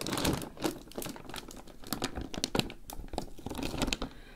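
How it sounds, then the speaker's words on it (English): Plastic mailer package from ASOS torn open by hand, a dense run of crisp crinkling and ripping bursts close up, with no talking. "I'm actually going to see if I can just tear this."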